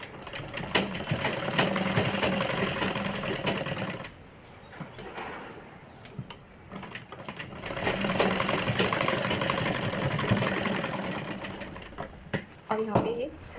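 A sewing machine stitches a girl's crop top in long steady runs, motor whirring loudly and continuously, pausing briefly in the middle before resuming; a voice talks over it.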